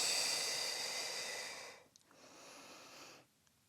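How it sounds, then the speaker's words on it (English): A long, breathy exhale fills the first two seconds during a Pilates spine stretch, followed by a softer, shorter breath before quiet. "Inhale and then exhale."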